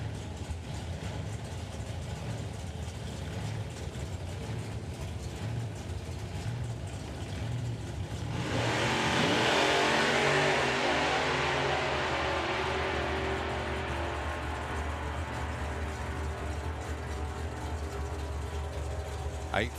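Toyota Supra drag racing car at a drag strip, idling low and rough, then hitting a sudden loud rev about halfway through that settles back into a rumbling drone.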